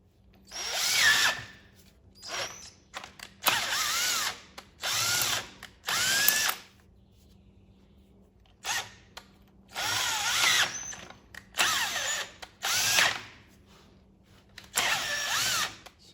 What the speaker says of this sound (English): Now we'll run this bolt